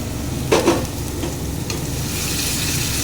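Spices such as cumin powder and turmeric powder sizzle steadily in a pan for matar aloo sabji, and a utensil scrapes and stirs them now and then. The frying sounds close, with no talking.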